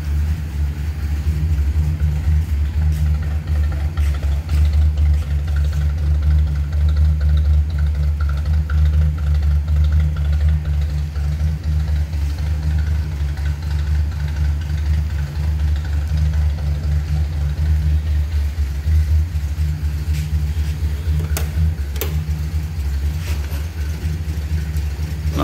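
Old car with a badly done engine swap idling steadily for a long stretch, a loud, close, rough low rumble with small fluctuations and occasional light clicks, no talk over it.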